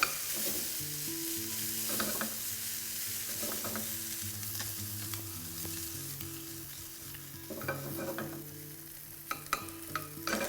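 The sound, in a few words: SPAM frying in a pan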